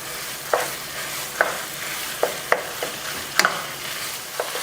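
Ground meat browning over medium-high to high heat in a pan, a steady close sizzle with intermittent sharp scrapes and stirs spaced through, no talk.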